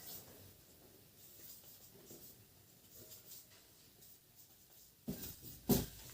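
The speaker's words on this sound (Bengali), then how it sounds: "লিখে দিচ্ছি, লিখে নাও" Hand writing on paper or a board during a Class 12 philosophy lesson, soft scratchy strokes in short bursts, close and faint, ending in a couple of louder knocks, with no talk over it.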